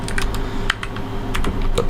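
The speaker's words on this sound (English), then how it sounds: "I completely forgot that I was in the middle of typing" Fingers type on a computer keyboard, producing a steady, close clatter of keystrokes with irregular rhythm and a few sharper taps, with no voices.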